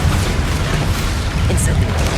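A Bombarda spell blast in the game Hogwarts Legacy: a loud, dense rumbling explosion that fills about two seconds without letting up.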